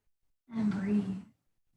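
A single deep breath during a level 1 yoga session, a soft airy exhale lasting under a second, close and quiet with silence on either side.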